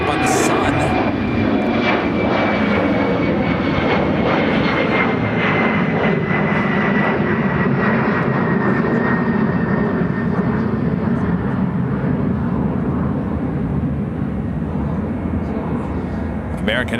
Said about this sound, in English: 787-9 Dreamliner heading to Athens, Greece, heading to 28 right.